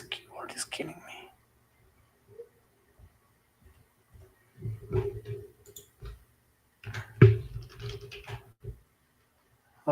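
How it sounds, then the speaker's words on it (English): Someone types on a computer keyboard, with sparse clicks at first, then irregular clustered bursts of close keystrokes, and low murmuring between them. "this keyboard is killing me."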